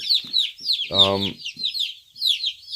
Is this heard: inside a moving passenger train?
no